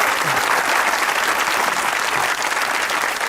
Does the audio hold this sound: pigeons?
no